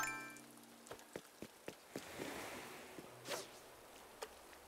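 Soft rain falls in the video game Animal Crossing: New Horizons, a faint, steady patter with a handful of sharp clicks spaced through it.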